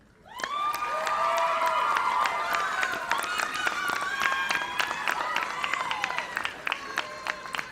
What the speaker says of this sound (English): for us to give you a round of applause.